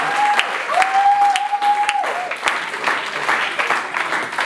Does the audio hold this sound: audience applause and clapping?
yes